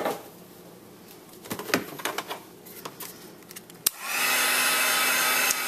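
A heat tool switches on and blows steadily, drying a wet embossed image on a Christmas card; a loud, constant whooshing roar starts partway through after some light handling and tapping.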